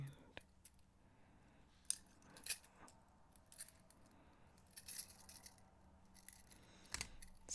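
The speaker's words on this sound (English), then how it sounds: "snip off the excess." Wire cutters snipping off the excess from a wire-wrapped teardrop frame holding gemstone beads, giving a few sharp, faint clicks over a quiet background.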